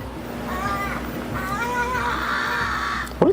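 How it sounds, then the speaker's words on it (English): A bird calls a few times at mid distance against steady background noise, with a brief clatter at the end; the calls are taken for a crow cawing. "There's a crow."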